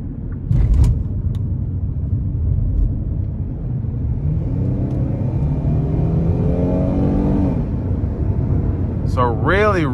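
A 2020 Kia Telluride EX engine pulls under acceleration, a loud low cabin rumble whose tone climbs steadily through the revs, then drops as it shifts, with brief knocks at the start and end.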